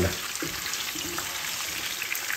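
Skinless longganisa sausage, sweetened with sugar, frying over medium heat in a pan: a soft, steady sizzle with small pops and bubbling, fairly quiet and even throughout.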